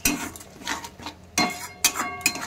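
A spoon scrapes and clinks against a metal pan while spinach for palak paneer is stirred with chilli powder, salt and coriander-cumin powder, giving a few sharp knocks between softer scraping, close by with no voices.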